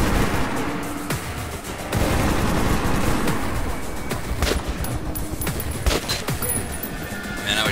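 Sustained ground-combat gunfire in Metro 2033 Redux, with dense bursts of shots and sharp cracks rolling continuously over a low rumble, some loud close reports standing out against distant fusillades.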